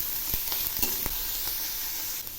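Shredded cabbage and grated carrot frying in a pan with cumin seeds, a dense steady sizzle punctuated by several sharp spatula taps as the vegetables are stirred, close and with no voices.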